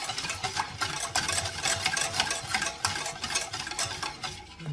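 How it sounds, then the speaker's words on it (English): Warm ricotta mixture is whisked in a pot just off the heat, making a steady, rhythmic run of quick scraping strokes that is close and moderately loud, with no talking. "Start by giving a little whisk."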